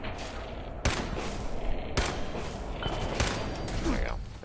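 Gunfire from shooting enemies in Fallout 4 on very hard difficulty, a few sharp shots cracking out at irregular intervals over a steady background of game ambience.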